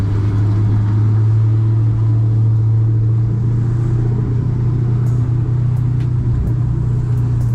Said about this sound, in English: when this car warms up, the burbles down this hill is like so crazy